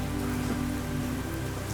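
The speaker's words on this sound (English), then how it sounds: "it's like 97 degrees and raining" Steady rain pattering on a surface outdoors at a glass chapel wedding in Arkansas, an even, close hiss with no voices.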